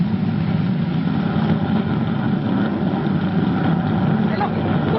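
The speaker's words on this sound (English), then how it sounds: "Maybe a good rocket blast will make the crater let go." Rocket engines fire on a spaceship in a radio drama, a continuous low roaring rumble that holds steady and loud for the whole stretch, with no break or speech over it.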